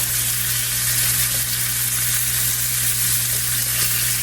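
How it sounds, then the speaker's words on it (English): Butter melts and sizzles in a skillet turned down low, a dense, even crackling hiss over a low steady hum, close and constant with no talking. "Then go in with a couple more tablespoons of butter. Let that start to melt."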